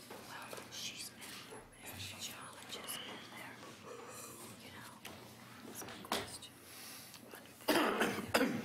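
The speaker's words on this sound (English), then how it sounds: "Pardon my cough." A couple of coughs break through a quiet, breathy room at a city citizen committee meeting, the last one a loud, harsh burst near the end.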